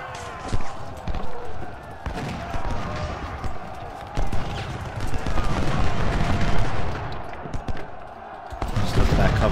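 Musket volleys in the Civil War strategy game Ultimate General: Civil War, crackling shots and distant rolling bursts layered over battle noise, fairly loud and continuous, with someone talking over them.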